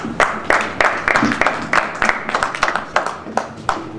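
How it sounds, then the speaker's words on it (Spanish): Audience applause at a political event on Venezuela: distinct, rhythmic claps repeating roughly every third of a second in a fairly close, steady sequence, like a small group clapping in unison. "un aplauso para todos ustedes"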